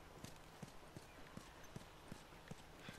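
Horse hooves clip-clop on hard ground in The Last of Us Remastered on PlayStation 4. Eight or so evenly spaced, faint hoofbeats form a steady walking rhythm.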